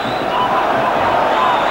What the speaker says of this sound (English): this huge crowd again getting right behind the Rangers team